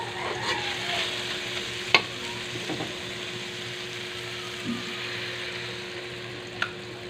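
Bitter gourd (ampalaya) and eggs stir-frying in a pan, a constant close sizzle with a few sharp spatula scrapes and taps against the pan.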